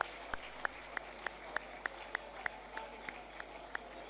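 An audience at a human settlements conference claps in a steady rhythm, even beats about a third of a second apart over a low murmur of room noise.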